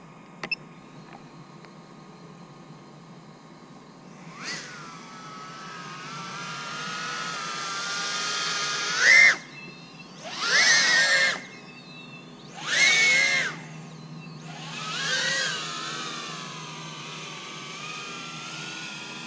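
Small FPV quadcopter on a 4S 850 mAh battery, its motors whining steadily at a distance, then surging in four loud, short throttle bursts with rising and falling pitch before settling back.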